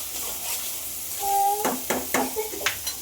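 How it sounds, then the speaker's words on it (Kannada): Onion and tomato frying in a pan, a soft steady sizzle joined by several sharp stirring scrapes and clatters toward the end, with a brief tonal squeak midway. "ಈರುಳ್ಳಿ ಮತ್ತು ಟೊಮೊಟೊ ಹಾಕಿದ್ದಾರೆ. ಒಂದು 2 ನಿಮಿಷ ಫ್ರೈ ಮಾಡಿ"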